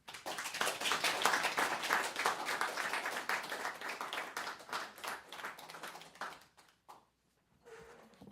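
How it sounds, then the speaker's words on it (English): Applause from an audience following a poetry reading, dense and steady clapping for several seconds that thins out and breaks off into quiet near the end. "Let's give her EJ a round of applause again"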